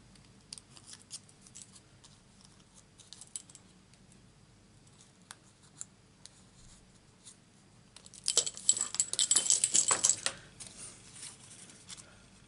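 Scissors snip around a stamped cardstock butterfly, trimming its edges in a quick close burst of crisp cuts after a quiet stretch of faint handling noises.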